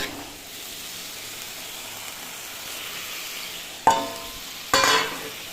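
Pomfret fish in hot spiced oil with salt and turmeric, a soft steady sizzle that bursts into two sharp, loud crackles as pieces hit the pan.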